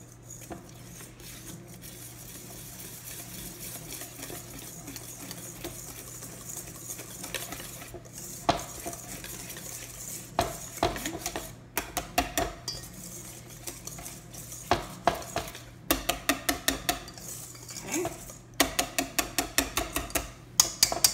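Brownie batter stirred with boiling water in a bowl: repeated spoon clinks and scraping against the dish, quiet at first then a quick rhythmic tapping run near the end, close-up with no voices.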